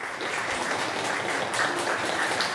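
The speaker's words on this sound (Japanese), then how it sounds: "皆さん拍手お迎えください" A bookstore event crowd at Chapters welcomes the author and a literary YouTuber with steady applause, an even wash of many hands clapping throughout, with no voices over it.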